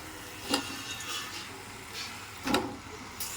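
Mutton pieces dropped into a pan of cooked-down masala and fried, a soft steady sizzle punctuated by a few clattering stirs of a spatula against the pan, fairly quiet and close.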